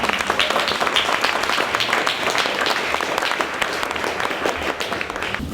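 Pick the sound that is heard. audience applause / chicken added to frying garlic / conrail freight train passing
audience applause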